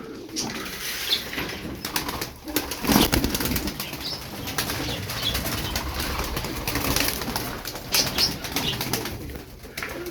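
Tumbler pigeons flap their wings in bursts and give soft coos close by, the fluttering recurring through a steady outdoor bustle of background noise.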